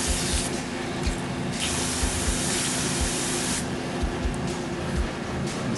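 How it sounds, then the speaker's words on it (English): Water sprayed from a Roundup weed killer spray bottle, a steady breathy spray hiss broken into a few long bursts, with faint low thumps beneath. "I think as time permits I'll probably spray some water in there."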